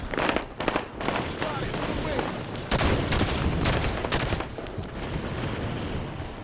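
Incineration cannon fire in a Halo multiplayer match sounds as dense, continuous booming blasts and bursts of gunfire, with players talking excitedly over the battle.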